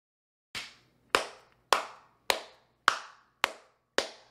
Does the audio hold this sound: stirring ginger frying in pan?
no